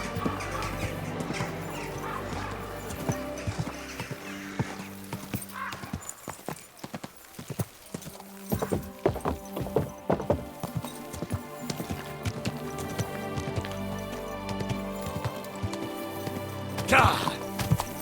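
In the video game Kingdom Come: Deliverance II, a horse's hooves clip-clop in a steady walking rhythm, close and clear, with a whinny near the end; a voice speaks over the hoofbeats at times.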